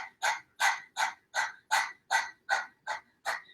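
A person imitates a panting dog with the tongue out as a breathing exercise: about ten quick, rhythmic breathy pants in a steady row, close and clear with no other talk.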